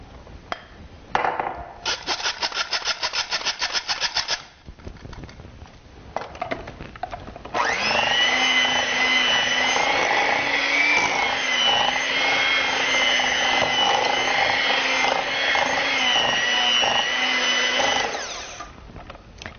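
An electric hand beater works lemon sponge cake batter: short choppy bursts at first, then a steady, loud motor whine that holds for about ten seconds before cutting off. No one speaks.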